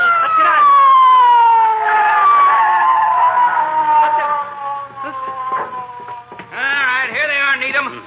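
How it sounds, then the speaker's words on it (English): A police siren on a 1948 radio show wails loudly with descending then repeating tones, continuing for several seconds before shifting to a rapid warbling pattern. "McGee, I hear a siren."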